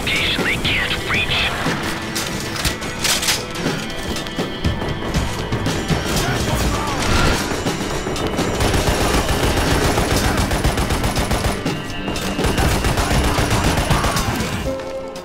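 Rapid gunfire from a first-person shooter game set around a pirate base, with humanoid enemies cut down in steady bursts that run dense and loud through the whole stretch, a voice talking over the shooting.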